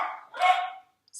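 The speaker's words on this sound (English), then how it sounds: "those are my dogs" Several dogs bark in short bursts, fairly close and loud, with a pause and then a brief high yip at the end; no talk is heard.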